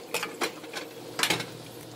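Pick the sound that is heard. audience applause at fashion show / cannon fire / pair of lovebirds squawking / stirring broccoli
stirring broccoli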